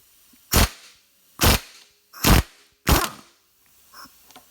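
An impact wrench spinning off a 32 mm steering stem nut on a dirt bike, four sharp, loud hammering bursts at roughly even intervals, close by, then a faint trailing rattle.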